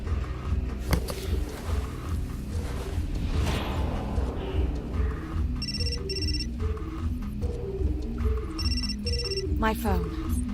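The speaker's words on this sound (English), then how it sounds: "My phone. Must be McPherson" Mobile phone ringing in the video game Still Life 2, a repeating electronic ring pattern in two bursts over a steady game soundtrack.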